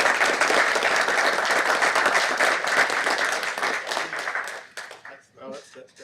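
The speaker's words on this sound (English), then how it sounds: "Let's give them a round of applause." An audience applauds at a Lenoir City Board of Education meeting, a dense, loud clatter of many hands that holds steady, then thins into scattered claps and fades out near the end.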